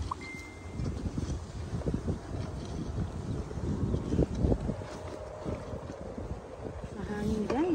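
Wind gusting steadily outdoors with broadband rushing and microphone buffeting throughout, under scattered speech and ambient noise.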